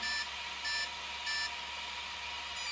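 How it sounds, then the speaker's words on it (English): High electronic beeps from the ESC of an Arrma Kraton 1/5 8S EXB RC truck, sounding as the set button is held, repeat in a steady pattern, four short tones spaced about half a second apart over a low motor hum. "you hold the set button down, you hear the beep"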